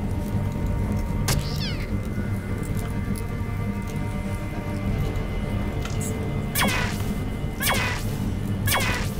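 A cat in the video game Underrail gives a few short meows over a steady droning game soundtrack with faint rain-like patter, the calls spaced apart and fairly distinct.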